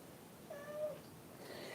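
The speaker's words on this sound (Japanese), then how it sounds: "猫様が今私の刺し子している部屋に入ってきてにゃーと鳴き爪研ぎをして、そして近くに来てくださっております。" A domestic cat meows a couple of times in a quiet indoor room where sashiko stitching is underway, the soft cry rising briefly before a short sharper sound near the end.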